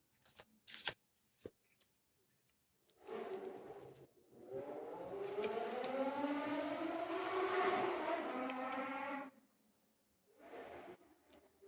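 A motorcycle engine rises and falls as it passes outside, its pitch climbing then fading, with a few sharp clicks before and after.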